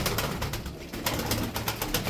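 Tumbler pigeons cooing in a loft, soft repeated coos over a busy bed of fluttering and rustling, fairly close and steady throughout, no voices.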